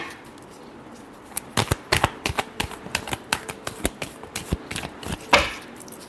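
Tarot cards shuffled by hand, a run of sharp irregular riffling clicks and slaps close by, building to a louder flurry near the end, with no talking.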